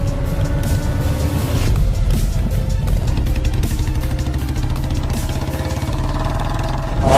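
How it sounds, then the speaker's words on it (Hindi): A motorbike engine runs loud and close with a steady, throbbing drone that holds throughout and swells slightly at the end, as if revving to pull away. "इसके बाद बाबा बाइक को स्टार्ट करते हैं"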